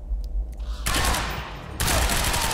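Gunfire in the video game Quantum Break, a quiet start giving way to two loud bursts of rapid, sustained shooting close up, with no talk over it.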